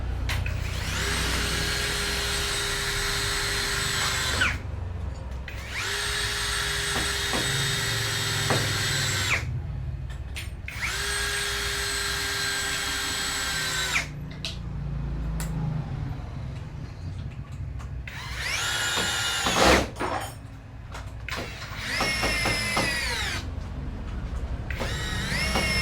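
A Vendoz electric screwdriver drives screws in bursts, first at speed 1 and then at speed 2. Three long, steady motor whines are separated by short pauses, followed by several shorter whirring runs with rising pitch, all loud and close with no talking.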